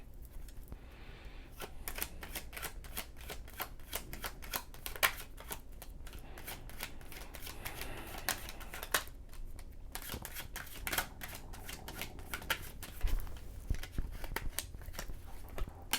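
Tarot cards are shuffled and drawn by hand, a close, steady flurry of crisp riffling and flicking snaps that runs for the whole stretch without speech.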